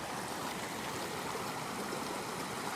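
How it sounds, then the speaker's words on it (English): Fast-moving stream water runs steadily and close by, a constant broadband rush with no breaks or voices. "This water kind of moving fast."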